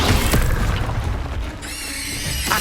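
A Confringo fire-blast spell from the Hogwarts Legacy video game bursts into a loud, rumbling explosion with crackling debris, followed by a steady, hissing tail.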